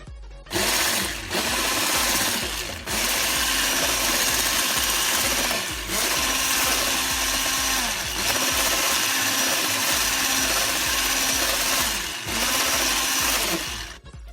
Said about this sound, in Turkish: Bir çırpacağım.